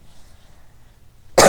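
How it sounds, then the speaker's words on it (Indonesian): A single short, loud cough bursts out at the very end after near silence, from a person pausing while going over practice exam questions. "Aduh, batuk."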